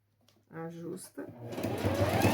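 Someone speaks briefly, then a sewing machine starts stitching bias binding on a fabric box pouch, its motor whirring up in a close, continuous run.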